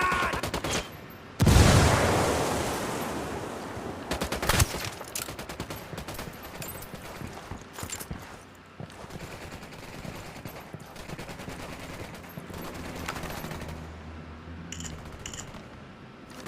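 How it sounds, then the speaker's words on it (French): A frag grenade blast in the video game Ghost Recon Wildlands opens with a loud sudden boom, followed by a long stretch of rapid gunfire and scattered shots, close and dense throughout. "Frag lancé, attention les yeux."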